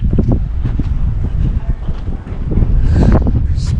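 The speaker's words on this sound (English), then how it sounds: "Again, the wind." Strong wind gusts buffet the microphone outdoors, a continuous rumbling roar that swells louder toward the end, with faint rustling and a voice in the mix.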